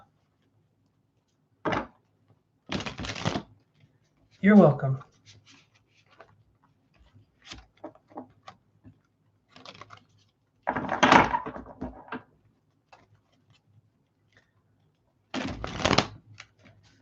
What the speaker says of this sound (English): Let's do one more shuffle. Well, let's do two more shuffles here.